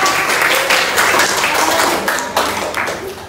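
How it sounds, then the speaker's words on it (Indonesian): Schoolchildren in a sixth-grade classroom clap together in a loud, close burst of applause that holds steady and then tapers slightly at the end. "Tepuk tangan untuk kalian."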